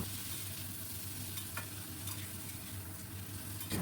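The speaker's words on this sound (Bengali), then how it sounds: "গ্যাসের ফ্লেম মাঝারিতে রেখেই আমি খুব ভালো করে ভাজবো।" Potatoes and jackfruit seeds fry with turmeric and Kashmiri red chilli powder in a pan over a medium gas flame, a soft continuous sizzle with faint stirring scrapes, quiet and unbroken by speech.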